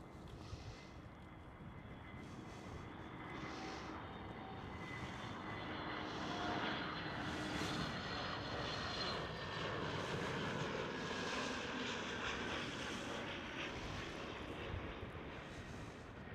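A Transavia Airbus A321neo jet passes at Schiphol Airport, a steady broadband engine roar that swells gently toward the middle and holds, heard alone at moderate distance.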